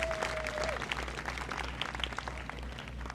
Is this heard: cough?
no